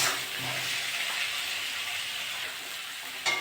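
Chopped tomato and chili powder sauté in hot oil in a pan for a tilapia and taro curry, giving a steady, close, bright sizzling hiss, alone without talk, with a brief clatter right at the end.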